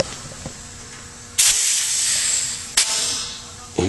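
A homemade 30-gallon air compressor vents pressure in a loud, sustained hiss lasting over a second, then a short second burst and the start of a third, each cutting in sharply over a faint low hum.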